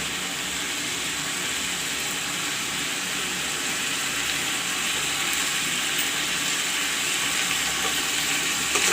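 Water goes into a pan of drumstick curry, giving a steady broad hiss and sizzle that runs evenly throughout at moderate loudness.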